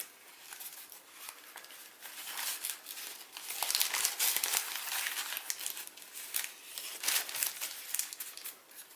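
Origami paper being creased, sunk and folded while collapsing a Pegasus model, giving continuous close crinkling and crisp rustling with brief louder snaps as the sheet is pressed.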